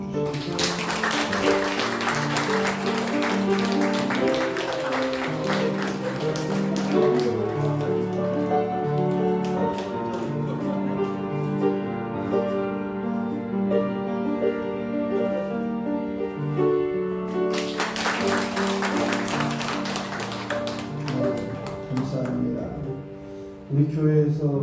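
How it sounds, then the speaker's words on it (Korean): A church congregation at a Korean Presbyterian Sunday service claps in congratulation, two bursts of dense applause rising over sustained organ-like music and fading between them. "그래서 축하의 박수 한번 주시죠"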